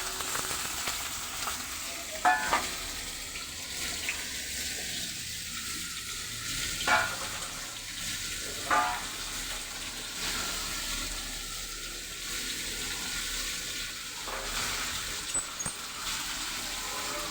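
Chopped tomatoes tipped into a pan of raw pumpkin curry, giving a steady, moderately loud sizzle with brief stirring scrapes and clatters, no talking over it.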